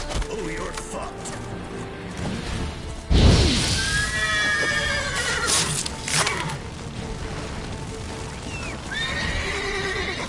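Roach, a horse in The Witcher 3, neighs in several loud, shrill whinnies over galloping hoofbeats and a crashing hit, with someone talking over the game sounds.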